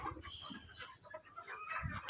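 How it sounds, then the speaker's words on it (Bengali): Free-range desi chickens cluck softly in the cold, foggy winter morning, several short clucks scattered across two seconds, fairly faint and close, with no talking. "দেশি মুরগি আমরা ছেড়ে দেবো"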